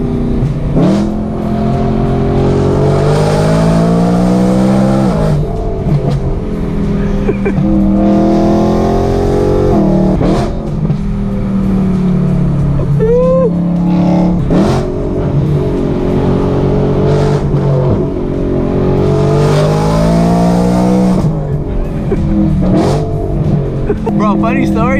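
BMW E92 M3 with a loud exhaust revving and pulling hard through a canyon road, engine note rising and falling continuously and close up, with people talking over it.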